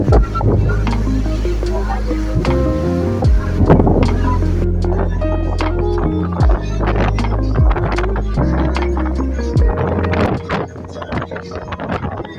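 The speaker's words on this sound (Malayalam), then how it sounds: "ഞങ്ങൾക്ക് ശേഷം പുറപ്പെട്ട നാട്ടിക ഫെറിയാണ് ഈ കുതിച്ചു വരുന്നത്." Nattika passenger ferry speeds along on open water, its engine droning steadily under rushing wind and wave splash, with intermittent knocks and clatter of the hull close by for the whole stretch.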